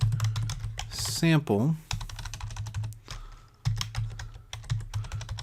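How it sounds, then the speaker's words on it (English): Typing on a computer keyboard, quick irregular clacking keystrokes close up, with a person speaking briefly partway through. "I'm going to type in texture"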